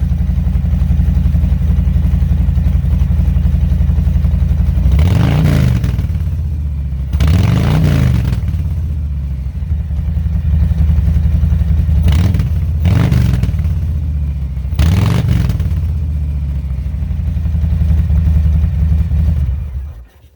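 A 2021 Harley-Davidson Street Bob 114 (FXBBS) fitted with Vance & Hines Eliminator 300 exhaust, baffles in, idles with a deep, steady low rumble close by, broken by several short throttle blips around the middle before settling back to idle.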